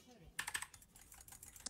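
Fast, clattering keystrokes on a computer keyboard during a League of Legends URF match, a quick burst of close clicks followed by scattered lighter taps.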